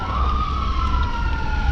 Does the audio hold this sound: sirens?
yes